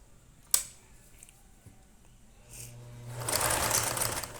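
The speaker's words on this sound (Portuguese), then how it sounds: "E a gente vai passar uma costura na volta inteira." A sewing machine stitches fabric for a rabbit-shaped backpack: a sharp click and a few faint mechanical taps, then the motor whirs steadily and loudly for the last second or so.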